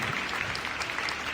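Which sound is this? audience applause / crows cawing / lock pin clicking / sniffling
audience applause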